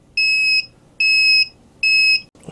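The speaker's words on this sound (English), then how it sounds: "Okay, so we know the buzzer works." A buzzer on a hobbyist variable voltage power supply kit sounds three loud, steady electronic beeps. Each is a pure, high, shrill tone about half a second long, separated by short silences, heard up close with nothing else over it.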